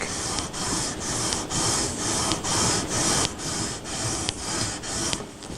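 Sanding beam with 1000-grit paper rubbed back and forth across the frets of a Stratocaster neck, a steady close rasping scrape with about ten even strokes, each ending in a faint click.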